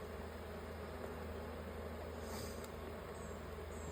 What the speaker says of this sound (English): Where are all these bees coming from?